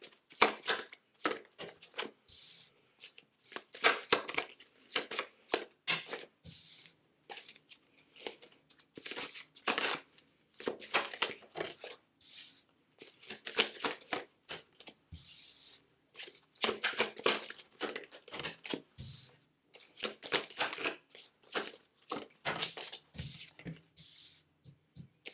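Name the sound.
shuffling and pulling tarot cards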